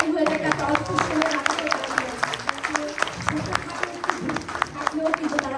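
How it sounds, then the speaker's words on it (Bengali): An audience at a stage show claps for two performers, with distinct hand claps rising and falling over a few seconds while voices murmur underneath. "দুজনের জন্য একটা জোরে হাততালি হয়ে যায়"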